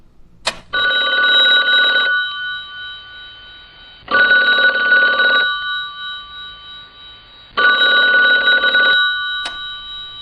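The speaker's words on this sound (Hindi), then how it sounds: "अचानक फोन की घंटी बजी।" Classic telephone bell ringing in three long, loud, evenly spaced bursts with silent gaps between them, with a couple of brief clicks at the start and end.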